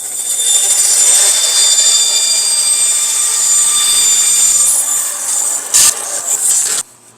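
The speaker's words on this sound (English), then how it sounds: "this might go through the bandsaw without a problem" A bandsaw slicing through a model railroad diorama, a loud, high, steady whine that holds for several seconds before cutting off abruptly near the end.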